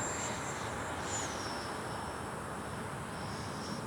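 An E-flite 80mm F-16 RC jet makes a full-power, full-speed pass: a loud, steady rushing roar with a thin high whine that bends slightly in pitch as it goes by.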